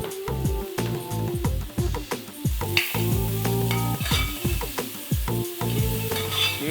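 Beetroot frying and being stirred in ghee for an Onam payasam, with a steady close sizzle under repeated scraping stirs of a spoon against the pan, rhythmic and continuous throughout, no talking.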